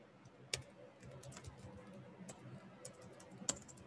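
Keys tapped on a computer keyboard in a quiet room, a few soft irregular clicks with a couple of sharper strokes, close and faint, no voices.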